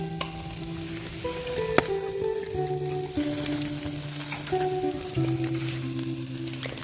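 Steady sizzling of food frying on a grill grate at an autumn forest picnic in Ireland, a constant crackling hiss, with faint tonal background sounds and occasional clicks.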